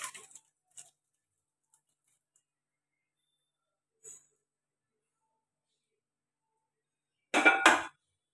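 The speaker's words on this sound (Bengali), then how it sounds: "যে কিমাটা করলাম এতক্ষণ ধরে সেদ্ধ হলো, সেটা এখানে ঢেলে দিলাম।" Boiled minced meat keema tipped into a kadai, heard as a brief wet, clattering slide of food and spoon against the pan near the end, after a few faint clinks and long quiet stretches.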